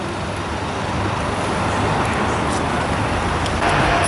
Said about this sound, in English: Another streetcar.